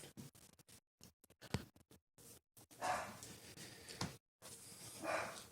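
A pet dog named Bandit barks indoors during knife sharpening: two loud, close barks rise out of scattered clicks and taps, with short gaps of silence between.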